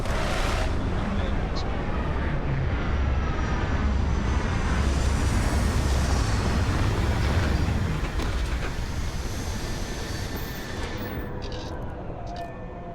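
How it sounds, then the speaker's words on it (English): A spaceship touching down in the video game Starfield, a loud sustained engine roar and rumble that holds steady and then slowly fades, with a voice talking over it. "Landing gear is ready. Site is clear."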